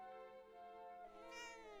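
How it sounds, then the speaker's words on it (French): A small cat meows in Dragon Quest VII Reimagined, a single drawn-out, rising video-game mew heard alone and fairly quiet, with no talk over it. "Qu'est-ce qu'il est mignon ce petit chat."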